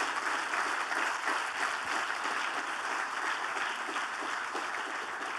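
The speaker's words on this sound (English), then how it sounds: "So could we give them a round of applause," An audience applauds at a Gavi Board mid-term review meeting. The clapping is dense, steady and sustained through the whole stretch and is heard alone.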